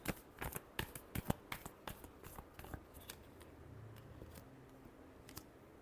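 Tarot cards are shuffled by hand in a quiet room, giving a run of sharp riffling snaps and taps followed by a softer rustle.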